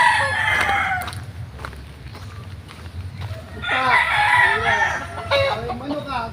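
A fighting rooster crows loudly nearby, a long strained call in the second half, with softer clucking and rustling before it.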